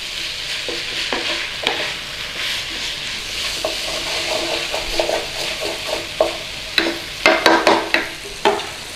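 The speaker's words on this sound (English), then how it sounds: "in with our carrots. And just cook it down a little bit in there." Carrots fry in butter in a pot with a loud, close sizzle. Spoon stirring adds repeated scraping knocks that grow quicker and sharper toward the end.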